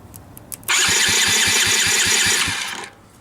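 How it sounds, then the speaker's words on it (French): A small pit bike engine cranks over rapidly with a rhythmic whirring starter for about two seconds but never catches, then winds down. "Le moteur vire, c'est juste qu'il part pas"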